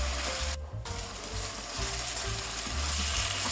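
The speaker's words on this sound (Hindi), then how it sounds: "अब मैं इसमें डाल देता हूँ भिंडियाँ। अब इसकी 3 से 4 मिनट मैं इसकी भी भुनाई करूँगा।" Okra (lady finger) frying in a pan with masala, a steady close sizzle with soft stirring scrapes running throughout.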